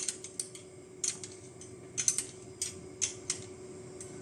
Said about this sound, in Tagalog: Saka mo ibalik ulit yung lock ng tensioner. Saka mo higpitan para mag-straight yan.